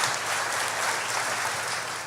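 An audience at a chamber of commerce community awards ceremony claps steadily for award recipients, a dense, even burst of applause lasting a couple of seconds.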